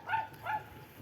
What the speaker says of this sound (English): My little neighbour's dogs. They're really cute. They yap all the time